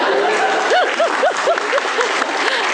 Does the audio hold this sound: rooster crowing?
no